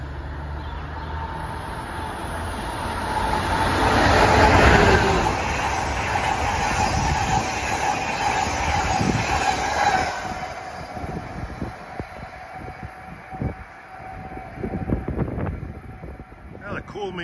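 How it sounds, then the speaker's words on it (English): Amtrak train 609 from New York to Harrisburg approaches cab car first in Bucks County, Pennsylvania, its rumble swelling to a loud peak and then giving way to rolling clatter and a fading wind-like rush. "approaching is train 609 from New York to Harrisburg. Cab car first"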